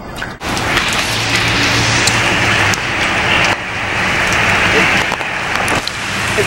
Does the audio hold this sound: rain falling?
yes